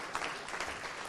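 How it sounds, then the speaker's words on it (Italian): A crowd applauds at an outdoor inauguration of a local expo, a steady wash of clapping lasting about a second. "Possiamo fare l'applauso"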